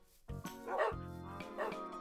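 Dogs in a Minecraft game, with several barking near the player, give a few short yips and woofs in quick succession over a steady tonal background.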